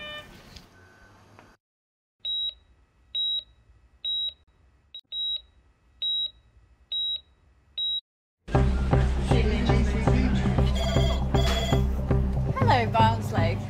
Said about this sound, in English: the emergency phone has been ringing off the hook